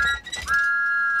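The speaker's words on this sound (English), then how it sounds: "Thomas was so excited, he blew his whistle louder than ever." A cartoon steam engine's whistle blows loudly, starting with a brief broken toot and then holding one long, sustained, steady shrill tone, alone with no talking.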